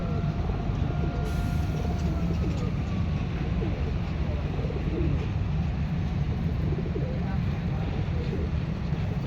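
A pair of pigeons being offered for sale at a bird market, with faint cooing under a steady, dense crowd murmur and background chatter throughout.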